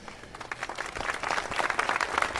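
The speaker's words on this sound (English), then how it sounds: "Nice round of applause for both gentlemen" An audience applauding two introduced executives at an arena event, dense steady clapping that builds slightly in strength, heard fairly close without talk.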